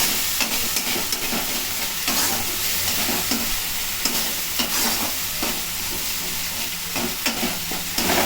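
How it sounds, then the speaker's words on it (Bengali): A spice mix for a shrimp and kohlrabi curry is stirred in a hot pan, with rhythmic scraping strokes over a constant loud sizzle and no talking. "এবার ভালো করে মাখিয়ে নেওয়া হচ্ছে মশলাটা"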